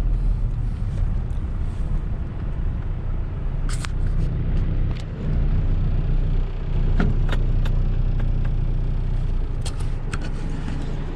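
A car is parked near the Masjidil Haram in Makkah, its engine a steady low rumble with cabin hum and a few brief clicks and knocks, close and continuous with no talking.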